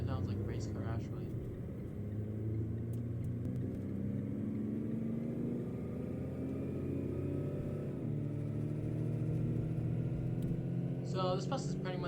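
A heavy bus engine in the video game Bus 2 drones and revs steadily for the whole stretch, rising in pitch like acceleration, with brief voices at the start and end.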